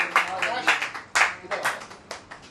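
A group of people at a poetry recitation clap together in a loose, steady rhythm of sharp, fairly close claps, with voices mixed in among them.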